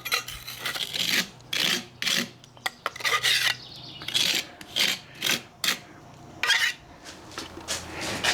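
A pointing trowel scrapes and works wet mortar on a fire brick pizza oven door arch, making a series of short, gritty scraping strokes with taps of metal against brick, close and without talk.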